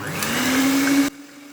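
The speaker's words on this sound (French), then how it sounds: "On va les monter en neige." An electric whisk beats egg whites into stiff peaks, giving a loud, steady motor whine that cuts off abruptly near the end and leaves only a faint hum.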